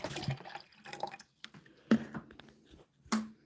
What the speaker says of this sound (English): All right, water goes in.